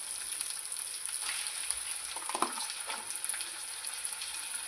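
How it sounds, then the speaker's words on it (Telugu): Chicken livers frying in a pan with ginger and garlic, a soft steady sizzle at moderate distance with a brief brighter crackle midway as the pieces are moved. "బాగా శుభ్రం చేసి పెట్టుకుని లివర్స్ వేసేసుకొని ఫ్రై అవనిద్దాము"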